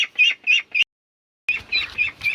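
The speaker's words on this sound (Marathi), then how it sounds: "पक्षी आवाज देत होते" Newly bought chickens and ducks call in a few short, close chirping and squawking bursts, then fall silent and resume with a busier run of calls over faint low background noise.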